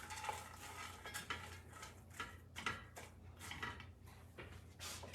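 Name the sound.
stirring ground meat and carrots in a pan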